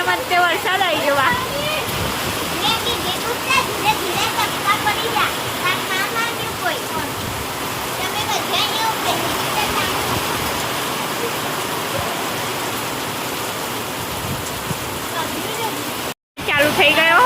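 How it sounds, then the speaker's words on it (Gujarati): Heavy rain pours down steadily during a windy storm, a dense, continuous wash of water that stays loud and even throughout, broken only by a brief cut near the end. "થોડીક વારમાં તે વરસાદ આવી ગયો."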